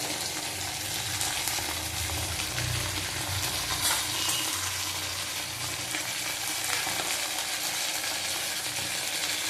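Spices with ginger paste and cumin powder fry in hot oil for a rohu fish curry, a dense continuous sizzle with stirring scrapes, close and steady throughout.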